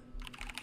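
Quick typing on a computer keyboard into a game chat box, a rapid run of light key clicks after a brief quiet start, close and clear, no voices.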